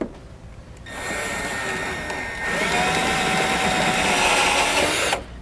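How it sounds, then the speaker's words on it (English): A power drill with a step drill bit whines in two sustained bursts, the second higher and steadier as the bit grinds through metal enlarging holes, with a brief pause between. "I'm going to come back with a step drill bit, and we're going to enlarge the holes we just drilled"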